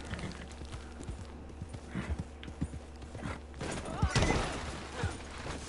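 Horse hooves clip-clop at a steady walking rhythm on a hard surface, fairly quiet and close, with faint creaks of tack and a brief whinny-like sound midway, plus a voice now and then.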